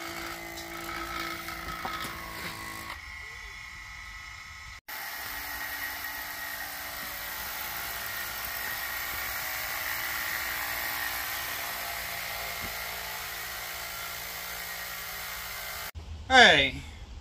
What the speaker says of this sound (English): So we're going to drill those out and go from there.